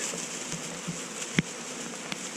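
A honey bee swarm in a hive gives a soft continuous buzzing drone, close and steady, broken by one brief louder tap partway through.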